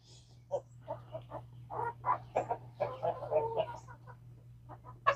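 A young rooster in a chicken coop gives a run of clucks and rough, crow-like calls, close and moderately loud, in an irregular rhythm with no one talking.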